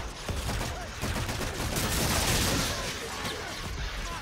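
Rapid gunfire in the video game Call of Duty: Infinite Warfare, with dense overlapping shots crackling continuously for several seconds at a steady, fairly loud level.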